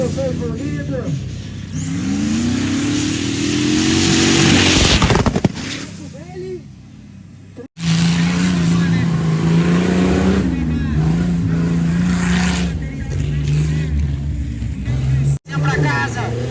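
An off-road jeep racing through mud at a jeep cross event in the mountains, its engine revving and climbing in pitch, then holding a steady drone, loud and close, with a brief cut midway.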